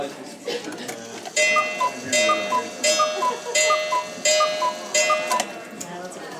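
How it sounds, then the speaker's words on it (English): Cuckoo clocks at an Oktoberfest shop in a Germany-themed pavilion call in turn, a smaller clock first and then a larger one, each sounding repeated two-note cuckoo calls with rhythmic ticking beneath and a crowd murmuring in the background. "I am now the owner of that cuckoo clock."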